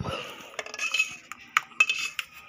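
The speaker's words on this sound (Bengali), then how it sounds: "থালাটাকে এখন নাড়িয়ে নাড়িয়ে সমান করে নিব।" An oiled plate holding poured mango pulp for aamshotto is shaken to even it out, giving a short run of close metallic clinks and rattles of the dish over about two seconds.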